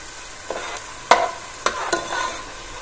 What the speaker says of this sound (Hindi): दो प्याज ले लिए हैं और उसको मैंने हाफ कप ऑयल में सौते कर रही हूँ